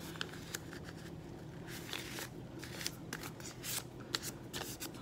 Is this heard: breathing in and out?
no